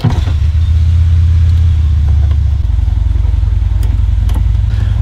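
Harley-Davidson motorcycle idling nearby with a deep, loping rumble that stays loud and steady throughout, with a slight shift in the engine note partway through and no talking.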